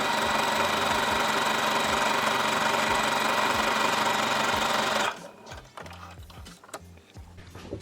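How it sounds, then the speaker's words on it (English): Sewing machine stitching a fabric tube for a mini scrunchie, a steady close whirring run for about five seconds that then stops, leaving faint handling clicks and rustles. "you're just going to start sewing"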